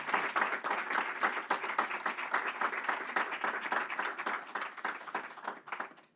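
An audience at a monthly medical academic session gives sustained applause for two doctors, clearly separated claps forming a steady rhythm that fades out at the end.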